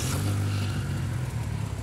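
A Proton Satria with a bolt-on turbo engine revs steadily at close range, a loud continuous drone with no talking over it.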